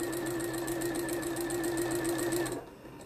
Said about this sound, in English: So I'm just going to stitch my seam.